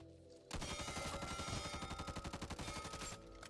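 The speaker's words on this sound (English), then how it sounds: "M4, now we're talking. That was no recoil." An M4 rifle in Metal Gear Solid: Peace Walker fires a sustained automatic burst of roughly three seconds, with rapid, evenly spaced shots.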